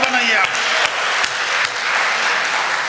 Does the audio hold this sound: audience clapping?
yes